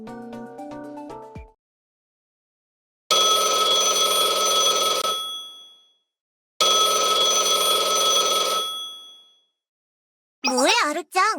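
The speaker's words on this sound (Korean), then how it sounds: "전화 안 받아?" Two long electronic telephone rings sound loud and close, separated by a silent pause. They follow a brief musical phrase, and a short burst of voice comes at the end.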